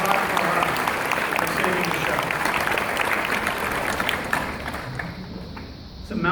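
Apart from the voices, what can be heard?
Comic Con panel audience applause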